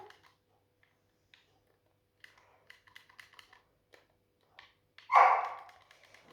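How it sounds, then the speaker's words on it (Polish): A dog gives one loud, sharp bark close by, breaking a quiet stretch of scattered light clicks and taps like typing. "przepraszam za te szczeki psa"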